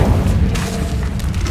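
A deep, booming spell blast from the game Hogwarts Legacy, a single loud low thump that rumbles and fades over about a second and a half, alone with no talk.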